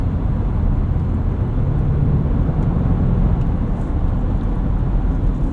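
Steady broadband road and wind rumble from inside a 2024 Porsche Cayenne S cruising on a highway at night, low and even throughout with no voices.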